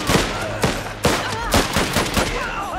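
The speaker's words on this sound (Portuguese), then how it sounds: "Metralhadora vai pegar aqui." Machine gun fire in the video game Last Train Home, loud bursts of rapid shots repeating roughly every half second, with continuous battle noise between them.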